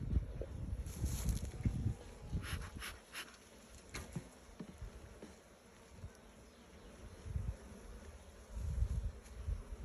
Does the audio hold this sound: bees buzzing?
yes